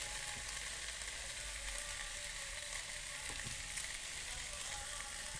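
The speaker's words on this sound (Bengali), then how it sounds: "আর একটু ভাজা করে নেবো ভালো করে" Chicken fries in a pan with ground cumin and spice powder, giving a constant close, crackling sizzle with a few faint stirring clicks and no voices.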